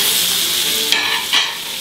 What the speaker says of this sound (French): Lorsque la poêle est suffisamment chaude, j'y insère une bonne cuillerée de beurre